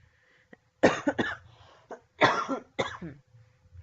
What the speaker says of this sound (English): Sorry about my cough, I'm sick of it too.